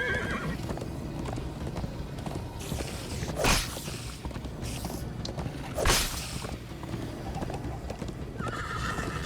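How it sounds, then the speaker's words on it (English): Horses in a Minecraft movie scene, clip-clop hoofbeats and creaking tack running throughout with two loud whinnies rising above the steady galloping. "First time on a horse here."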